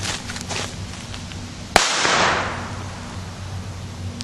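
A single firecracker goes off with one sharp, loud crack, followed by a fading hiss and rumble outdoors, against a steady low background hum.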